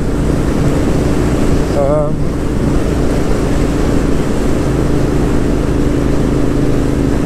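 A Royal Enfield Interceptor 650 motorcycle, geared up one tooth on the gearbox sprocket, drones steadily and loudly at speed on an open A-road, with heavy wind rush over the engine throughout.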